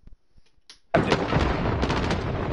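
Gunfire in the Modern Warfare campaign bursts in suddenly after near silence, a loud close blast that rolls into sustained rumbling shots and echoing booms.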